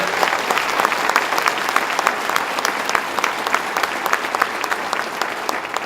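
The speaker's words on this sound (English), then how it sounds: "Let's give her a round of applause." A round of applause for Betty Little at an awards ceremony in Lake Placid, many hands clapping steadily and evenly throughout, close and full, with no talking over it.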